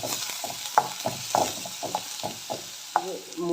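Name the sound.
onion and mustard seeds sautéing in a pan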